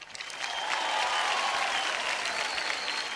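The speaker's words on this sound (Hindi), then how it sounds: "एक ताली हो जाए।" An awards-show crowd applauds, dense clapping that builds quickly and holds steady at full volume for a few seconds, with no voices above it.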